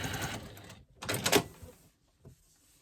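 A sewing machine quilting a fabric panel runs in short bursts, a near buzzing stitch that pauses, resumes briefly and trails off into quiet.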